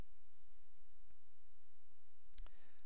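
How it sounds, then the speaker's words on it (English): Mouse clicks on a computer while connecting a source and target in SharePoint design software: a few sharp, isolated clicks, one near the end and fainter ones earlier, over a quiet room hum with no talking. "So we'll click on the source, click on the target"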